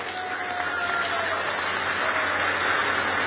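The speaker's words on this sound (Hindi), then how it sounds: "दोनों हाथ की ऊपर की खोल करके जोर से ताली बजा करके" Loud audience clapping at a Hindi Day public event in Madhya Pradesh, honoring the Prime Minister, from a dense crowd that claps steadily throughout with a faint tonal hum beneath.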